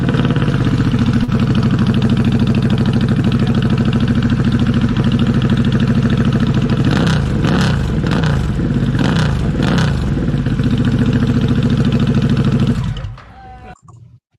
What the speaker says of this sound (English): that is a sweet sounding exhaust on that bike. I mean, it really made it sound like a Harley Davidson